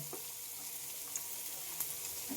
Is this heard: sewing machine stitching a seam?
no